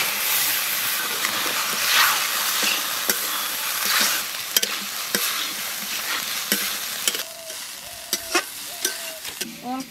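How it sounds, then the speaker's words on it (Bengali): Chicken pieces sizzle and fry in spice paste for a cauliflower and chicken curry while a spoon stirs and scrapes the pan, giving a continuous close hiss broken by sharp clacks toward the end. "অল্প অল্প করে জল দেব আর মাংসটা ভালো করে কষব"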